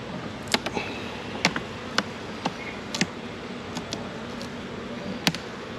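Agitated honey bees buzzing steadily inside an opened beehive near the brood chamber, a constant close drone punctuated by sharp clicks and ticks from handling the hive.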